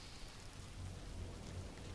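The Healing Rain skill from the video game Guild Wars 2 makes a faint, steady hiss of falling rain with a low rumbling undertone, continuous and even throughout.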